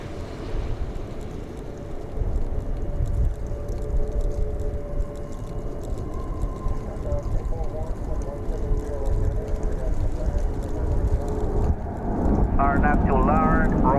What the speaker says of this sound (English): Here comes Aeromexico. This should be a MAX 8, if I'm not mistaken,